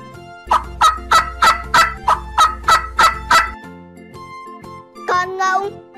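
A turkey gobbles in a rapid run of about nine short, rhythmic burbling calls, close and clear, ending before a brief high tone and light background music.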